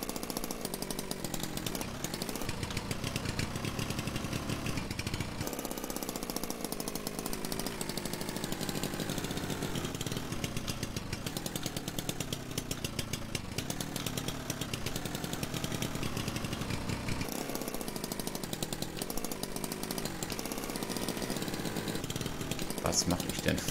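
A Trabant's small new engine runs loudly and steadily with a raspy, buzzing two-stroke rattle, its revs rising and dipping throughout.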